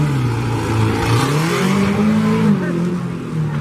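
A Subaru car revs hard at a tuff truck competition, its engine rising and falling loudly and close with a rough, strained tone, while spectators talk over it.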